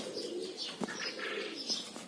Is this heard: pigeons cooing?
yes